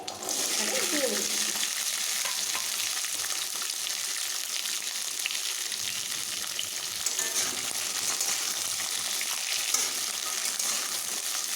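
Chopped yardlong beans fry in a pan with five-spice tempering, an even, dense sizzle and crackle that runs without a break, with occasional soft scraping of stirring, close and steady.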